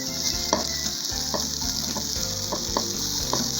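Liver frying in olive oil in a frying pan, a continuous close sizzle with a series of light scraping and clicking stirs from a utensil.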